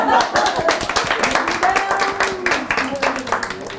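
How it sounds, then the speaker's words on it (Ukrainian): An audience at an intellectual quiz game show claps in a quick, close burst of applause, with a voice speaking over it. "Оплески."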